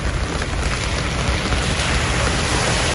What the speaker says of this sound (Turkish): Kent merkezinde başlayan yağış kısa sürede etkisini artırarak cadde ve sokakları göle çevirdi